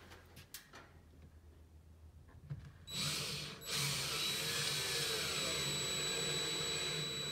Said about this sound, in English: if I drill my second fixing,